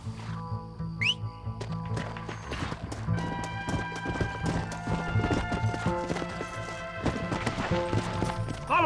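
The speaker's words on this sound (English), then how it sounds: "Mount your horse!" A horse gallops in the video game Red Dead Redemption in Nuevo Paraíso, Mexico, its rapid hoofbeats thudding in a steady rhythm under a whinny, a whistle and other game sounds, with voices calling out.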